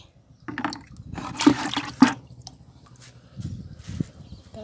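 Eggshell calcium liquid fertilizer is poured onto a potted plant, giving a few short splashing, dripping bursts close by, with brief pauses and low handling noise in between.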